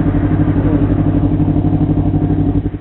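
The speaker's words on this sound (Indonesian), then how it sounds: "sekarang kita cobain dengerin rasanya seperti apa motor 250 cc dengan knalpot Yoshimura" A Kawasaki Ninja 250 Fi motorcycle engine idles through a Yoshimura carbon exhaust with a deep, bassy burble, steady and close throughout.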